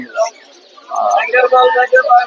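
Budgerigars at a pet bird and pigeon market chirp in quick, bright trills and twitters, several close calls running together for a couple of seconds.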